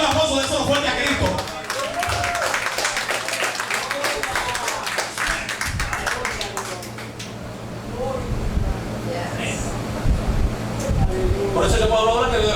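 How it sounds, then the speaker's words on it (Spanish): Congregation clapping in a church during a Sunday sermon, a dense burst of rapid hand claps in the first seconds that fades, with a man preaching over and after it and a low hum underneath. "Yo le doy un aplauso de eso fuerte a Cristo."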